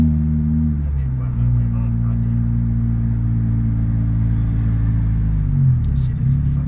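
Turbocharged car engine under light throttle, a deep, steady droning rumble with a slight shift in pitch as it pulls away, heard from inside the car.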